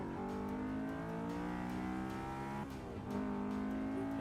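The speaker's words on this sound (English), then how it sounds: "Engine noise sounds all right," A race car engine in Forza 6 holds a loud, steady drone with rich harmonics, briefly dipping as the revs drop, then surging back up as it revs again.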